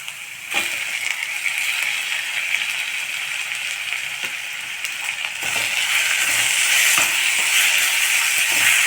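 Tomato drops into golden sautéed onions in a hot pan for dal, setting off a steady hissing sizzle that grows louder and fuller partway through, with no talking.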